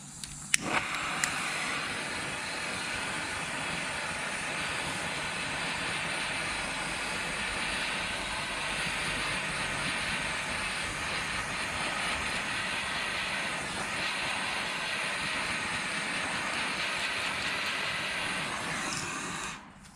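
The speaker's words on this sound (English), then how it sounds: "Okay, blowtorching your bumpers." A blowtorch burns steadily close by while car bumper trim is heated, a continuous loud roaring hiss lasting the full stretch, opening with a few sharp clicks and cutting off at the end.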